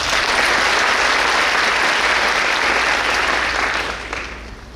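A school entrance-ceremony audience claps in sustained, dense applause, which holds loud and even before fading slightly at the end.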